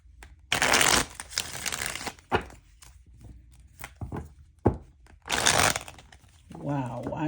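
Playing cards riffle-shuffled in bursts, a clumsy shuffle with loud whirring riffles separated by short pauses and light handling taps, close to the microphone.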